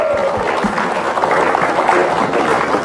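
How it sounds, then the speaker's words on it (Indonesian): A studio audience on the Indonesian TV talk show Hitam Putih applauds in a steady, dense wash of clapping that runs the whole moment, with some low thumps and crowd noise mixed in. "Sekarang kita tepuk tangan dong"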